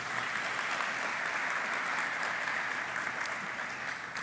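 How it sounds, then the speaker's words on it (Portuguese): A church congregation applauds during a worship service, producing a dense, continuous wash of clapping that fills the room at an even level throughout, with no voices standing out. "Aplauda Jesus mais uma vez, Ele merece."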